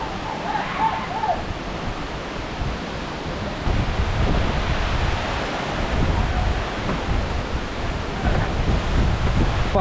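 Waterfall spray at Aagaya Gangai Falls in the Kolli Hills gives a steady, broad rushing wash, close and continuous, with wind buffeting the microphone and growing slightly louder partway through.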